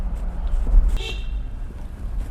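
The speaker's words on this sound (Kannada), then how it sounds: "ಹಾರ್ನ್ ಕೂಡ ತುಂಬ ಚೆನ್ನಾಗೇ ಇದೆ" A Toyota Fortuner Leader Edition sounds its horn in one short, fairly loud blast heard from inside the cabin over low engine and road hum.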